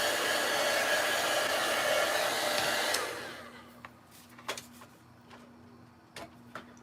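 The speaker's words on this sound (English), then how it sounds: "So I just used my heat tool to make the glue" Craft heat tool blowing hot air to melt glue into webs: a steady loud fan roar for about three seconds, then cutting off, leaving faint ticks and light clicks in a quiet room.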